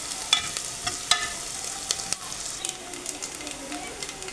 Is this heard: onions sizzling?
yes